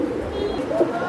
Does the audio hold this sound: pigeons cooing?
yes